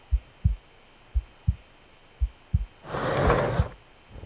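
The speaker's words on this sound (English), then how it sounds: "What is that heartbeat sound?" A game heartbeat thumps in steady low double pulses from the horror video game Which, fairly quiet and regular, briefly overlaid by a louder burst of rushing noise near the end.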